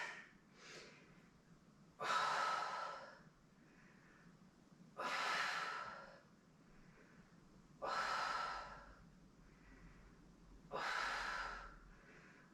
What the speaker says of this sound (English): Breathing out as your heel goes in, and in as your heel goes out.